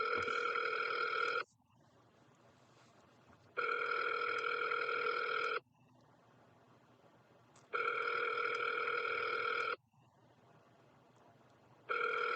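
A telephone rings unanswered in repeated long bursts of about two seconds, separated by two-second gaps, clear and steady with no one speaking.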